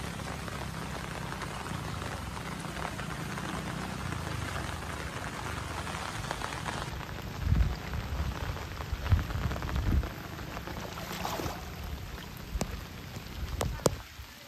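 Heavy rain pours over Konkan rice paddies during transplanting season, a steady broadband hiss with occasional louder spatters and drips close by and no voices.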